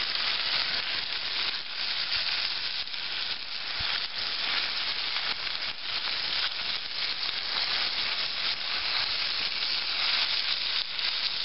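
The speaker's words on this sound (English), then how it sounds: "Nice bit of fat in there now, so it's all cooking really nice." Meat frying in its own fat on an outdoor wood stove burner, a steady, even sizzle and crackle with small pops, close and continuous throughout.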